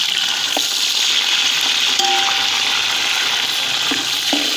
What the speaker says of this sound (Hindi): अब इसके साथ ही इसमें हम अपने टमाटर ऐड करेंगे, मटर ऐड करेंगे और मसाले ऐड करेंगे।